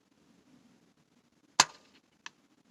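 A single sharp gunshot cracks out at a shooting range, followed by a short decay and a fainter distant impact or echo a moment later, with no talking.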